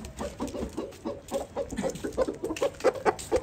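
An Aseel rooster clucks in a run of short, rhythmic calls that quicken and grow a little louder toward the end, heard close and fairly quiet with no talking.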